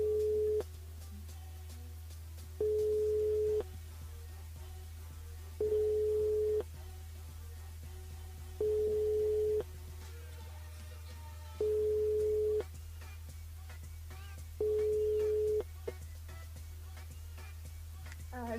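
Telephone line signal while a radio show host dials a listener live: six evenly spaced steady tones about three seconds apart, each lasting about a second, over a constant low hum.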